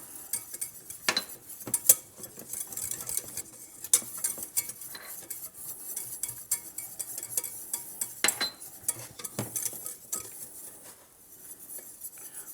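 Flour being stirred into melted butter in a pan with a whisk or spoon, giving continuous scraping and tapping against the pan with repeated sharp metallic clinks and a faint sizzle underneath.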